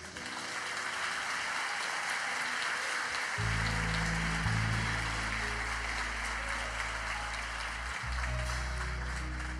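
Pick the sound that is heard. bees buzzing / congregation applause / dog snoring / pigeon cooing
congregation applause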